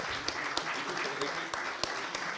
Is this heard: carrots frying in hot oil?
no